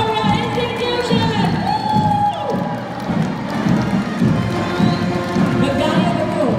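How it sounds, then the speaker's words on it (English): A school crowd cheers and claps to welcome a marching band at a show, a loud, continuous roar of voices and shouts with clapping mixed in, steady throughout. "let's give a big round of applause to welcome our marching band of Victoria Institution!"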